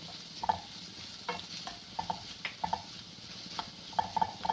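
Masala and vegetables for paneer bhurji stirred in a pan, quiet with a faint sizzle beneath a steady series of spoon scrapes and clinks against the pan, no speech.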